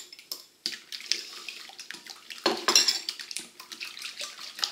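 Egg yolks, whites and cream whisked together in a bowl, busy clinking and scraping of a utensil against the bowl with wet sloshing, close and continuous, no talking.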